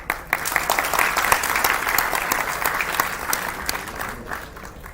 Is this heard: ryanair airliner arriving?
no